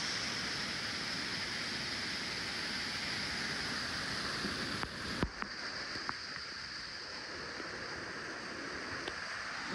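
A waterfall pours with a steady, broadband rushing roar that stays constant throughout, with a few faint knocks and small sounds near the middle.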